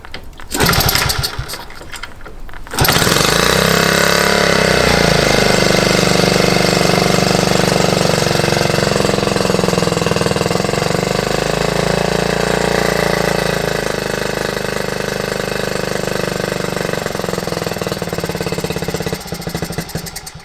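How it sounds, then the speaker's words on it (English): An old Honda T50 moped engine, set very lean after ten years off the road, bursts into a loud, close, buzzing run after a couple of seconds of rattling and keeps going steadily with an uneven throb as it refuses to settle at idle. "Doesn't want to idle."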